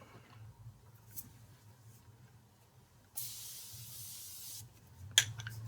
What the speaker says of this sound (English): A little bit of setting spray goes a long way.